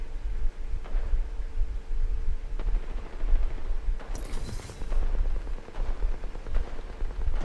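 Gunfire in the video game Apex Legends: dense, rapid shots and impacts come in sustained bursts over a constant low rumble.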